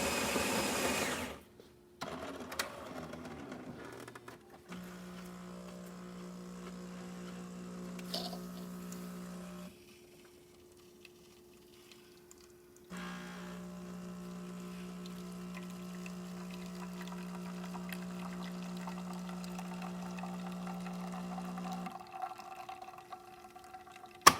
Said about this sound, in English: So now we're gonna test out the machine, starting with one espresso.